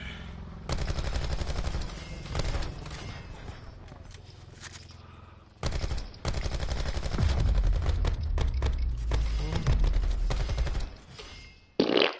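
Rapid automatic gunfire from a Call of Duty: Black Ops video game, dense loud bursts of rattling shots in long stretches with brief pauses, plus heavier impacts and footsteps, and a voice talking faintly underneath.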